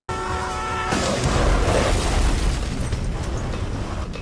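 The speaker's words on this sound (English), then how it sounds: "If you shoot them with the flare gun, it eliminates the need for the flashlight, so you can just shoot the baddies once and walk away from the explosion like a badass." A flare gun shot in Alan Wake explodes an enemy, a sudden loud booming burst that swells into a sustained roaring rumble for several seconds, heard alone without speech.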